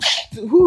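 A person lets out a single quick sneeze up close, a sharp breathy burst followed by a short voiced exhale.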